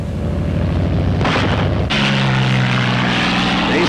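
Propeller engines of P-47 Thunderbolt fighter planes roar loudly, one close pass swelling and cutting off sharply, followed by a steady droning engine tone with a clear pitched whine.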